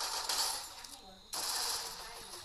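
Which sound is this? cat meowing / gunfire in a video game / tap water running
gunfire in a video game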